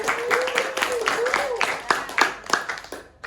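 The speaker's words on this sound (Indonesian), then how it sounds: "Tepuk tangan dulu, mau maju dia." A classroom group claps as a student comes forward to read out a group discussion result, with uneven scattered hand claps mixed with a voice and chatter throughout.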